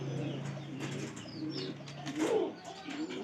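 Pigeons kept in a loft with young squabs coo softly and intermittently, with a few faint chirps and light rustling in a quiet indoor space.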